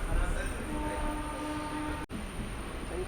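A passenger train on the new Sealdah–Varanasi Amrit Bharat run rolls steadily just after leaving the station, a continuous low rumble with a faint tonal hum and a brief dropout partway through.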